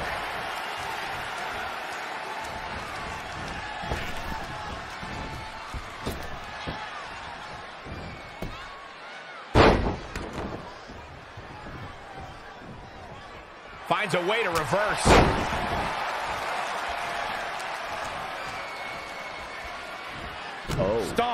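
A Tokyo crowd in WWE 2K20 roars steadily beneath a commentator's running play-by-play, with sharp slams and impacts punching through and the noise surging louder near the end.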